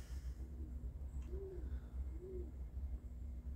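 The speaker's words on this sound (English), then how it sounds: "we got city chickens and doves cooing out there." A dove coos softly twice at a measured pace, with a thin steady hum and faint outdoor ambience behind it.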